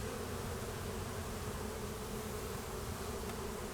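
A dense, steady drone from a large colony of honeybees in winter, heard close up as the hive lies open and frames are lifted, with no voices.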